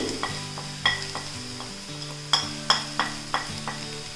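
A spoon scrapes and knocks in a pan on low flame as turmeric, Kashmiri chili powder, coriander powder and garam masala are stirred into cooked tomatoes for a mushroom roast, with soft sizzling and a series of sharp, ringing clacks.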